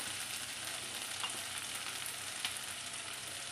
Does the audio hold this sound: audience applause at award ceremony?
no